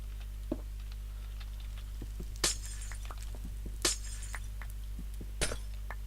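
Three sharp, bright cracking bursts spaced about a second and a half apart, each a glowstone block shattering in Minecraft's Better Than Wolves mod, over a steady low hum and scattered faint ticks.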